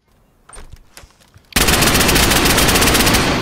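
Video game gunfire: a few faint, scattered shots give way to a loud, sustained burst of rapid automatic fire that carries on without pause, with no talking.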